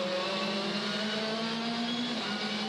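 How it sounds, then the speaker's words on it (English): WTCC touring race cars lap the street circuit at Marrakech, Morocco, with a loud sustained engine whine holding a steady pitch that shifts slightly as the cars pass, with no talk. "Citroen 1-2. Hugo Valence in third"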